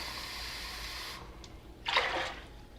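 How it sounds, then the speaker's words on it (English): Water poured from a cup into a slow cooker crock pot, heard as a short close splashing gush that follows a steady hiss and quiet fumbling. "we're going to add some water to about halfway on the mark of the crock pot"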